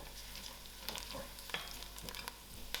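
Mustard seeds added to frying onions for a dhal curry, giving a steady sizzle with occasional sharp pops and crackles, close and moderately quiet, with no talking.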